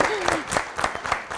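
Live studio audience applause on an Armenian television talk show, greeting an invited guest; a short, steady wash of clapping with a few louder bursts, carrying on evenly without pause.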